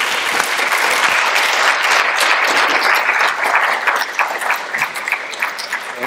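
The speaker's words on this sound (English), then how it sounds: "Please give a round of applause as we introduce you." An audience applauds at an evening event of the Center for African American Poetry and Poetics, introducing a speaker; dense, steady clapping from a full room continues loud and unbroken for about six seconds.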